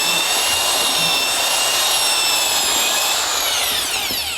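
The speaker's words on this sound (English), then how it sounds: "I'm using a slow speed mixer." Slow-speed mixer paddle churning drywall mud for a basement renovation, a steady loud whirring motor drone with a high-pitched whine that holds throughout, no voices.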